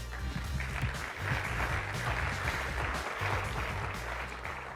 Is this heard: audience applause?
yes